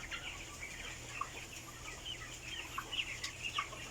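Broiler chickens on a farm clucking and chirping in a steady, busy chorus, with soft overlapping calls and faint background hum, no talking.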